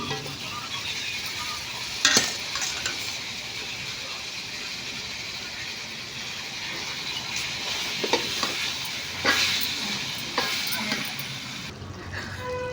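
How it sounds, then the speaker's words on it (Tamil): Chicken frying with onion and tomato in a pan for a home-style chicken curry, a steady sizzle with scraping stirs and a few sharp utensil knocks against the pan, faint voices in the background. "சிக்கன் போட்டு நல்லா வதங்கட்டும்"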